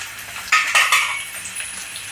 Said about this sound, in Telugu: 4 ఎండుమిర్చిలు తుంచుకొని వేసుకుందాము